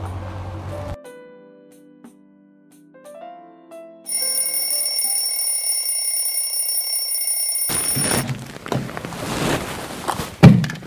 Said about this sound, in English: I set the alarm because I know you would definitely wake up late.